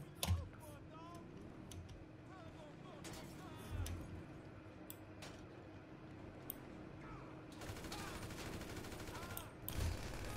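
Shotgun blasts boom in GTA 5, a few sharp reports spread across continuous gunfire and game clatter, with someone talking over the action throughout.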